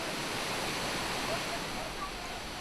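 Water pouring down a mountain ridge as a waterfall in a rare well-watered area of dry Israel, heard as a steady, dense broadband rush with no breaks, continuous and fairly loud throughout.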